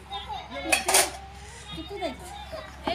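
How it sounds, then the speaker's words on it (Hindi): Metal utensils and dishes are set out and handled at a family wedding gathering in India, with scattered clinks and clatters under children's voices and background chatter. "बहन के बर्तन सेट हो चुके हैं"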